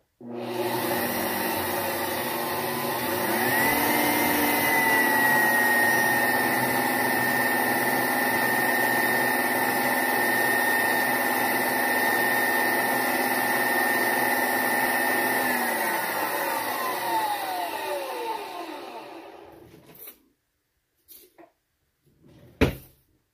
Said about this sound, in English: So I'll go ahead and mix it up, and then we'll check the consistency of the batter.